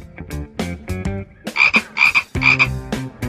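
An animated frog croaks in a series of loud, close, rhythmic bursts, each call repeated in quick pulses with short pauses between, with no talking over it.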